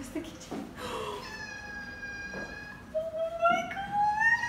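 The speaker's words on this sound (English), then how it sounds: "we've just arrived at the apartment and they have a cat. Where's the kitty?" A small cat in an apartment gives several short meows, then a longer rising, drawn-out meow near the end, heard up close in a quiet room.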